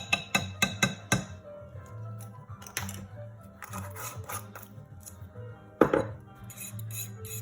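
A spoon stirs cinnamon into a French toast egg mixture in a bowl, giving a run of quick, close metallic clinks and scrapes at the start, then softer intermittent scraping with a few sharper knocks, and no talk.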